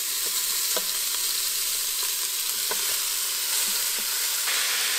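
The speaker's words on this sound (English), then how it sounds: "Now we're gonna go ahead and add our beef right into our Instant Pot. We wanna sear our beef." Beef sears on the sauté setting of an Instant Pot, a steady, close sizzle with scattered light taps and crackles throughout.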